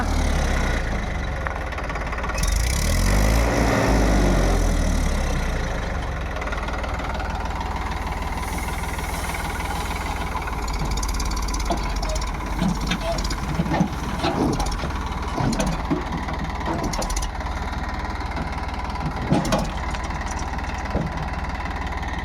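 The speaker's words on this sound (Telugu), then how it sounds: "ఇది ఐచర్ బండి" Eicher 480 truck engine idling during unloading of black gram husk, a steady low rumble running throughout with a louder surge early on and scattered knocks and clatter from the unloading over it.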